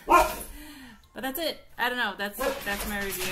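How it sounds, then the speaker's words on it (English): A pet dog barking and yelping nearby in a home while a person keeps talking, the barks rising in short harmonic bursts over and between the speech. "That's my dog."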